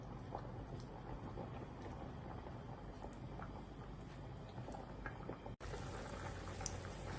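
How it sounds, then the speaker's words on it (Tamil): A pot of stingray fish curry simmers on the stove, giving a steady, soft bubbling hiss that continues throughout with one brief dropout near the end. "நல்லா கொதி வந்துருச்சு"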